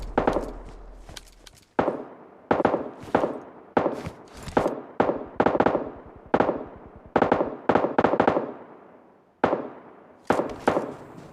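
Gunshots ring out in the mobile battle royale PUBG Mobile Lite, about fifteen sharp single cracks spaced roughly half a second to a second apart, each with a short decaying tail, loud and close with no talking.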